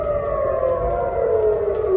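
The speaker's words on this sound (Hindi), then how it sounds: "तेल अवीव के कई शहरों में हवाई हमलों के सायरन बजने लगे" An air raid siren wails steadily over Israeli cities during a Houthi drone attack, a loud sustained tone slowly sliding downward with no voices.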